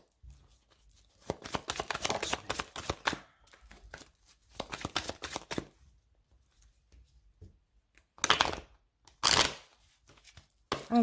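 Tarot cards shuffled and cut in bursts of crisp riffling and sliding, with pauses between the rounds and a few sharper slaps of the deck near the end, close up and alone.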